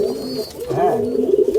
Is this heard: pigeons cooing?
yes